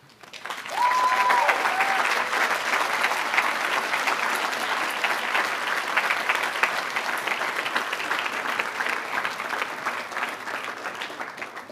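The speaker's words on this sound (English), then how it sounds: "could you please rise and offer a round of applause" A standing audience applauds at a school prize day ceremony. Loud, dense clapping starts abruptly and holds steady for over ten seconds without pause.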